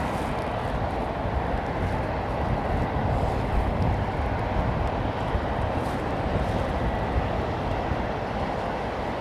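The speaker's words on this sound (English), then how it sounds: "Jet engines can sound louder with more moisture." A heavy jet airliner at Heathrow Airport, a steady loud broadband roar that holds evenly throughout without break, no voices over it.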